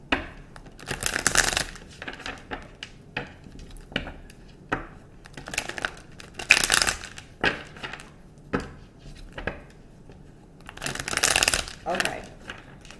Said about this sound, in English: I'm here to shuffle four times.